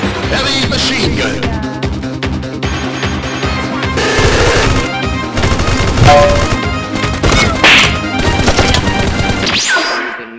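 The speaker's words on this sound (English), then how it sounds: "machine gun" Automatic weapon fire on the Livik map in PUBG, loud sustained bursts mixed with game effects and clatter, continuous and close throughout before cutting off abruptly near the end.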